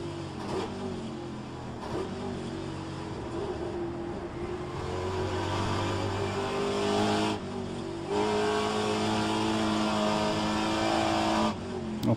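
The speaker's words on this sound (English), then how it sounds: "P1 is throwing that Camaro around" A Chevrolet Camaro race car laps the Mont Tremblant circuit, its engine roaring steadily with rises and dips as it shifts and corners, moderately close, with no talk.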